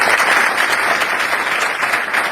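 Steady, dense applause from a large audience, loud and sustained throughout with no break in the clapping.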